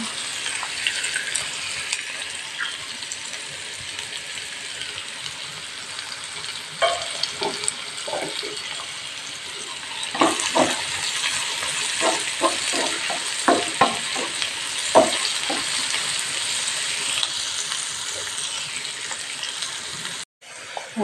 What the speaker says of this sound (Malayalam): ഇനി അരിഞ്ഞ് വെച്ചിരിക്കുന്ന പച്ചമുളക് ഇട്ട് കൊടുക്കാം